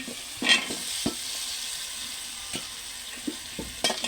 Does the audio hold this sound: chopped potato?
yes